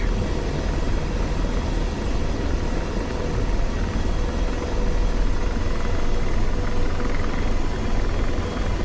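Helicopters flying in a DCS combat flight simulation, a steady loud rotor and engine roar that fills the whole stretch without a break and without talk.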